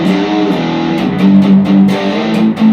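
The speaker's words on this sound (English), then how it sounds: "can we show them what the distortion is with that same riff?" Electric guitar riff pushed through a distortion pedal: sustained, harmonically thick chords with steady repeated attacks, loud and close, played alone with no voices.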